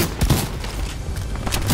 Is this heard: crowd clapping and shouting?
no